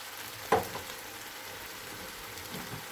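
Spices and tomato paste frying in a pan for a beef kofta curry, a soft steady sizzle with one brief louder sputter near the start, faint and without voices.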